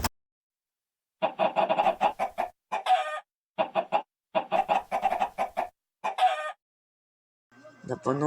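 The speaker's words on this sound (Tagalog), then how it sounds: "Papakainin ko naman ngayon ang mga manok." Chickens cluck in short repeated bursts, close and clear against silence, used as a sound effect in a Filipino radio drama.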